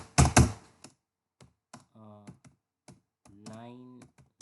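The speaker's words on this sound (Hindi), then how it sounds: "मैं आपको टाइप करके दिखाता हूँ।" Typing on a computer keyboard, heard as a loud burst of rapid key clatter at the start, then scattered single taps between stretches of speech.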